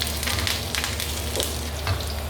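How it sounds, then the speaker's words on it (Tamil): Grated garlic, green chillies and curry leaves frying in hot oil, a dense, close crackling sizzle with bright spatters and occasional stirring, steady throughout with no speech. "இந்த எண்ணெய் காஞ்சோன்னா இந்த வெள்ளை பூண்டு துருவினதை போடணும்"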